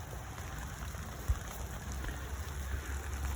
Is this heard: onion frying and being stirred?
no